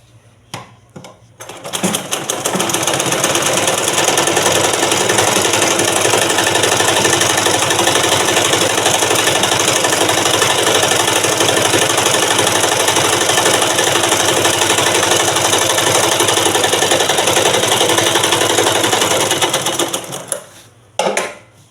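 A sewing machine runs a long, continuous stitch along a blouse patti, a loud, steady, fast mechanical whir lasting nearly twenty seconds. Brief starts and stops come at each end.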